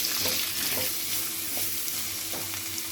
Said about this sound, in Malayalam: ഇച്ചിരി ഉപ്പിട്ട് കൊടുത്ത് നമുക്ക് ഇത് വഴറ്റിയെടുക്കാം.